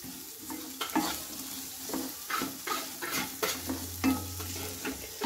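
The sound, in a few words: sautéing sweet potato with turmeric and spices in pan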